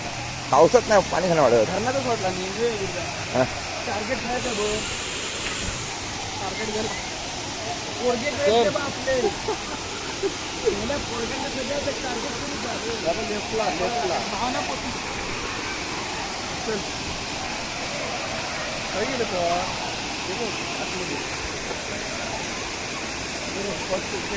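The Sawdav waterfall roars as a steady broadband rush through the whole stretch, while voices talk intermittently over it.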